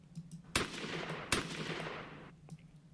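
Two sharp, loud semi-automatic shots from a Ruger Mini-14 rifle in a video game, each followed by a long rumbling decay, about a second apart.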